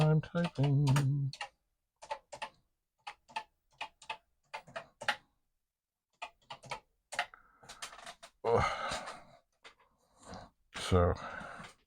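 Keys on a Commodore PET computer keyboard under repair are pressed in sparse, separate clicks and short bursts, crisp and near, with pauses between them and a voice speaking at the start and again near the end.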